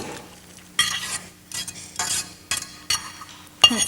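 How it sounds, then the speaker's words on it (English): Corn is stirred in a pot, with four or five bursts of close, rustling scrapes and light clinks separated by short pauses and a soft hiss underneath. "And we'll just stir it up in here."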